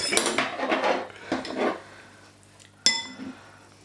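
A spoon clinks and scrapes against a pot of railway mutton curry, a few bursts of metallic scraping followed by one sharp, bright clink, close and without talk.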